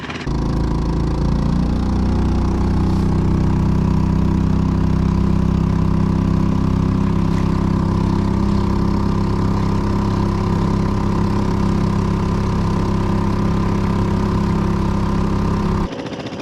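A Honda 2.3 short-shaft outboard motor being broken in runs at a steady, close idle, a constant droning hum with a strong low tone that cuts off near the end.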